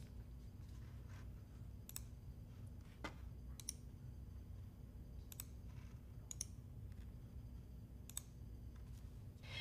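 Faint, sparse computer mouse clicks land one at a time at irregular intervals over a low steady hum, as files are copied and pasted in Windows.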